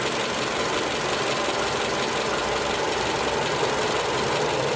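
A Toyota car engine is held at a steady 2500 rpm, giving a constant loud, close mechanical hum without any change in pitch or rhythm.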